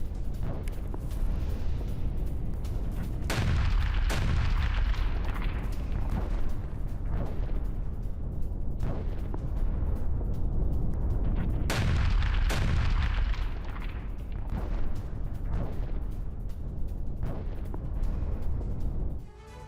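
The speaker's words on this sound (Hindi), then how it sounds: "आईडीएफ के हवाई हमले में हिजबुल्लाह के ठिकाने तबाह हुए हैं।" Airstrike explosions from an IDF attack in the Al-Qayam area of southern Lebanon, heard as repeated heavy booms and blasts with rumbling low-end, two especially strong bursts standing out, loud and continuous with no talk.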